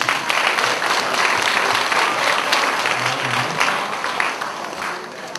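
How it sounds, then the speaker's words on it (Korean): Loud, sustained applause from a church revival meeting audience, steady dense clapping throughout with a few faint voices mixed in. "박수 한번 더 한번"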